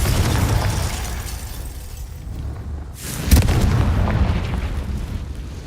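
A Confringo blasting spell goes off in Hogwarts Legacy: a single sharp, booming burst about midway, rising out of a steady rumbling background and leaving a lingering roar behind it.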